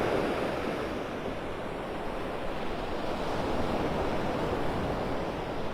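Ocean waves at Delnor-Wiggins beach in North Naples, Florida, in the morning make a steady, fairly close wash of surf with a windy hiss and no talking.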